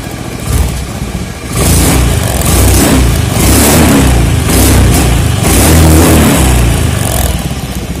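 A Honda Beat carbureted scooter with a PE24 carburetor revs loudly and close by, the engine surging up and down in repeated bursts, roughly hesitating as it struggles under throttle.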